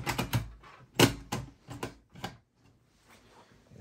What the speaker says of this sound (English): I'm gonna go and install the hard drive